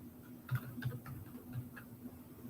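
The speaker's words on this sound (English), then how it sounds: "Excuse my typing." Light typing on a computer keyboard during a live tabletop RPG character-building stream, a few soft scattered key taps over low room hum.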